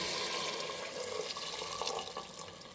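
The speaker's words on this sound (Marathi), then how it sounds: "आता आपण एक भर गरम पाणी टाकणार आहोत" Steady rushing of hot water being poured into a pot of mutton, a continuous splashing flow with faint clinks, fairly close and with no talking.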